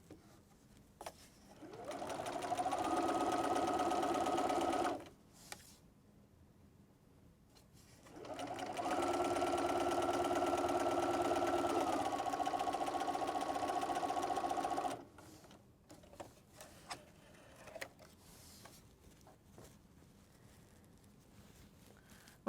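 Sewing machine stitching T-shirt quilt blocks into rows, two long steady runs of motor hum and needle patter with a short pause between them, followed by quieter handling noises.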